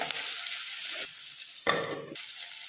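Onion and two sprigs of curry leaves fry in a pan with a continuous hiss. A louder, brighter burst of sizzling and stirring comes near the end, and no voices are heard.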